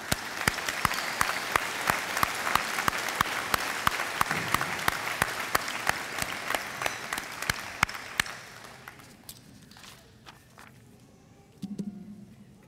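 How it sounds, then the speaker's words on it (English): Sustained applause from an audience at a 2021 high school academy graduation ceremony, steady clapping for about eight seconds before fading out, with a brief low murmur near the end. "Let's give all of them a round of applause."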